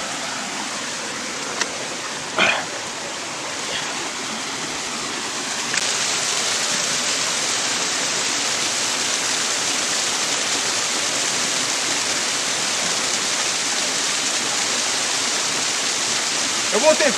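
A waterfall in the Brazilian Amazon rumbles as a loud, dense, continuous rush close by, with a few faint knocks early on and no talking.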